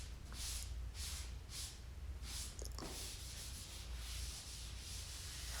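Skim-coated drywall being sanded to knock off small bumps, the abrasive rasping in repeated rhythmic strokes, close and steady over a low background hum, with no talking.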